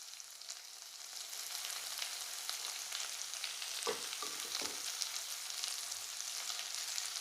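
A fish egg mixture fries in a pan, producing a continuous soft sizzle throughout, with a few brief scraping stirs partway through.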